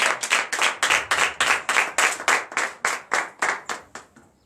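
At a Sunday church service in Comè, Benin, the congregation claps loudly in unison to welcome the prophet, sharp rhythmic claps in a steady beat that stop after about four seconds, with no voices.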